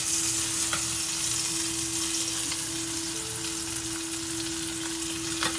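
Steady, even sizzle of steak frying in a frying pan, a constant crackling hiss with faint pops and a low hum running through, and no one speaking.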